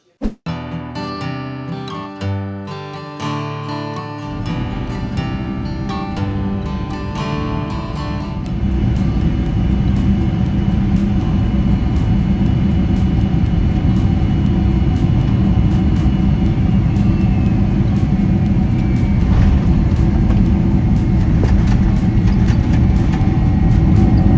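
Steady loud cabin roar inside a Boeing 767 airliner descending from cruise toward Zürich, a continuous broadband rush that swells after the first few seconds and holds constant, with faint tonal hum beneath and no talking.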